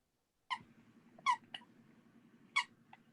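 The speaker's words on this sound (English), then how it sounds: "Josh's dog signed on. They were squeaky toys." A dog's squeaky toys give three sharp, high squeals about a second apart with a few softer squeaks between them, heard close against a faint background hum during a video call.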